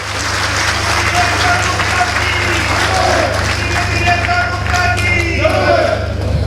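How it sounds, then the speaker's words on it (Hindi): A crowd claps loudly at a Delhi government event launching 300 new electric buses, steady applause over a constant low hum, with faint voices and cheers rising through it. "एक बार जोरदार तालियां आप अपने लिए बजाइए"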